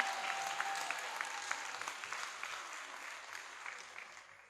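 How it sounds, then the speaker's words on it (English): An audience at a school graduation ceremony claps in sustained applause that rises and then slowly fades, heard from a moderate distance. "Give the parents a round of applause that gave it a try"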